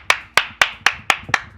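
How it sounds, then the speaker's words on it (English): Seven crisp hand claps in a steady, even rhythm, loud and close, with no talking. "Clap, clap."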